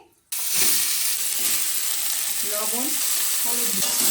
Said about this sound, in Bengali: লবণ আর হলুদ গুঁড়ো দিয়ে একটু ভালো করে লাউটাকে ভেজে নেব